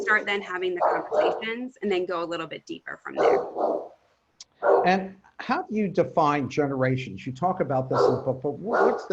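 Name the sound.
English bulldog barking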